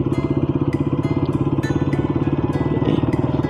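A KTM RC 200 motorcycle being ridden gives a steady, rapid engine pulse with rhythmic throbbing, close and fairly loud, under a faint clatter of wind and road.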